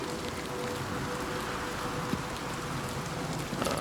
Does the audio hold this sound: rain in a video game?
yes